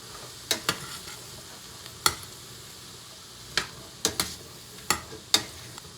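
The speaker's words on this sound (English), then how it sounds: "So I'm just gonna do a nice slow cook on these onions" Homegrown onions cook slowly in a pan under a low, even sizzle. Sharp clicks and scrapes from stirring break through it, close by and spaced irregularly.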